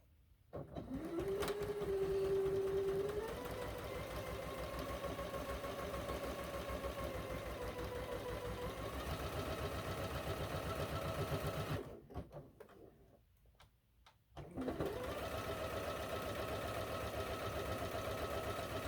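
A sewing machine stitches along a marked line on a quilt sampler block, a steady close mechanical whir that runs for about twelve seconds, stops briefly while the fabric is shifted, then resumes at the same even pace.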